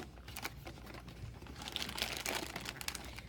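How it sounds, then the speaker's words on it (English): Bisquick mix package being opened by hand, close crinkling and crumpling of packaging in irregular bursts that grow louder and busier in the second half, with no talk. "First, we're gonna open up the Bisquick."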